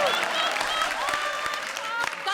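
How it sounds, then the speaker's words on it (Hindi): Studio audience at a comedy show applauds in a dense, even wash of claps, with a raised voice carrying above it. "तालियां तालियां, तालियां।"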